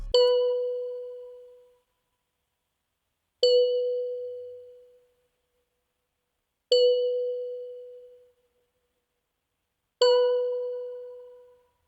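A synthesized bell tone from the Pigments synth strikes four times at slow, even intervals, each ring decaying smoothly into silence.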